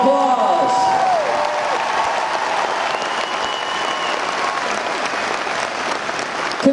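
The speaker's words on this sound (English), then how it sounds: "please give your own strings a huge round of applause" An arena crowd at a concert in Worcester, MA applauds the local string section, a loud, steady wash of clapping and cheering. Fading musical tones sound at the start.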